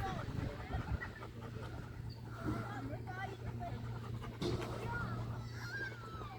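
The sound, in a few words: small pet dog panting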